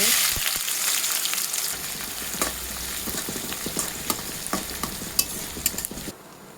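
Chopped garlic and onion frying in plenty of hot oil for fried rice made from leftover refrigerated rice, a steady loud sizzle with scattered scraping stirs that cuts off abruptly near the end.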